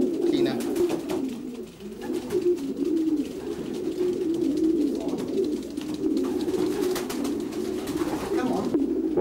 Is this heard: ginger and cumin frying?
no